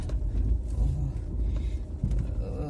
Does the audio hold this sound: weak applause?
no